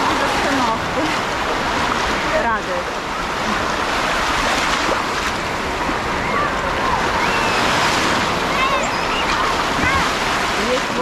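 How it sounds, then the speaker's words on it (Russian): Sea waves breaking on a beach in Odessa, a steady, loud rush of surf and wash that fills the whole stretch, with wind noise and some faint background voices. "Есть волны маленькие, а бывают такие, очень даже приличные."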